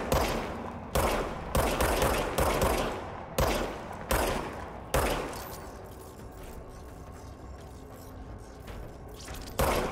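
A gun fires in the action game Control in a string of loud, evenly spaced shots, each sharp crack trailing into a metallic tail. A quieter mechanical stretch follows before one final shot, and no one speaks.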